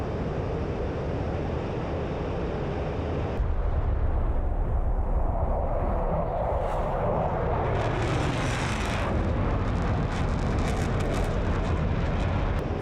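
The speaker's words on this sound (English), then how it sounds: "Or rocket should do the trick." Rockets fired from a JF-17 Thunder jet at a ground target in the DCS flight game: a steady roar of jet engine noise with a burst of launches and rushing blasts, loud and continuous throughout.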